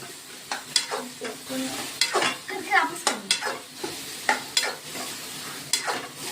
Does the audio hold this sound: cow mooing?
no